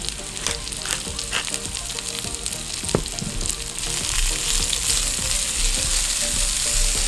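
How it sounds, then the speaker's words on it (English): Onion and garlic with salt and pepper frying in olive oil in a cast iron pan, a loud continuous sizzle with stirring clicks, swelling denser in the second half, heard alone without talk. "we're going to add our onion and garlic, as well as a pinch of salt and pepper."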